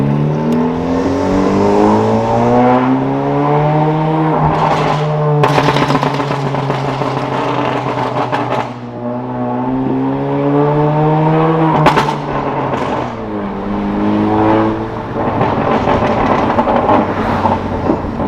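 A 2017+ Honda Civic Si running catless with the muffler deleted revs and accelerates loudly and up close, the engine note sweeping up and down through gears, with sharp crackling pops and backfire between pulls.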